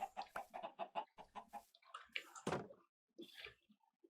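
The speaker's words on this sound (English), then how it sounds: "Chickens are growing up." Chickens clucking in a farming village video game, a rapid run of short clucks followed by a few louder squawks and calls, close and clear with no talk.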